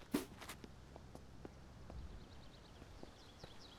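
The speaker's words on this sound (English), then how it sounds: "Thought I heard footsteps then." Footsteps in a zombie video game tread softly and unevenly at a distance, a sharper knock near the start and scattered light thuds over faint ambient game noise.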